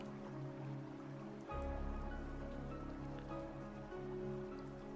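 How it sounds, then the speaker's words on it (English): Steady rain sound effect playing as a background bed for a spooky story reading, a continuous hiss of drops on a surface with a low rumble that thickens after the first second and a half, with no talk. "I even got the rain sound effects going on too with it."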